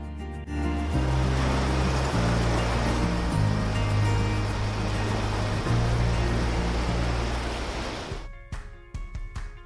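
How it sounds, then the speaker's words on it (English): Waves rolling onto a long sandy Lake Michigan shore near Grand Haven, a loud steady wash of surf under a low musical drone, fading out near the end. "the waves rolling onto long sandy shores"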